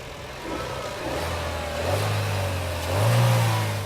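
A 2011 Chevy Cruze LT with its turbocharged engine pulls hard under acceleration, a steady mid-pitched engine note that climbs as the revs rise in two surges, close and loud, with no talking.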